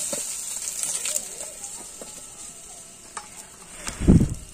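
A hilsa fish head fries in oil with a soft, steady sizzle beneath intermittent utensil taps and scrapes, ending with a louder bumping clatter.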